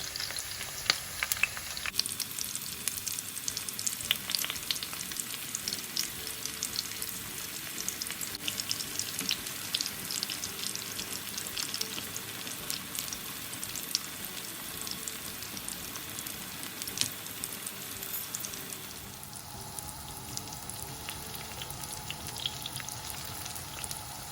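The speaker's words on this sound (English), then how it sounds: "I'm just going to cook it on high heat for 2-3 minutes until golden" Aubergine frying in oil over high heat, a continuous loud sizzle and crackle for about twenty seconds with occasional stirring, no voices.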